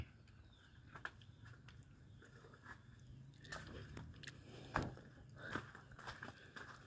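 Faint, close chewing and biting, with soft irregular crunches and clicks against a quiet outdoor background.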